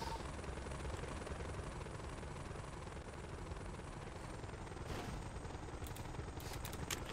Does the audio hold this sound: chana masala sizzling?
no